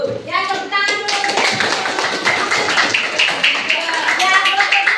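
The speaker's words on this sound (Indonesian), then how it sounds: "tepuk tangan dulu" A classroom of children clapping together, brisk and close, with a brief voiced tone at the start and children's voices mixed in throughout.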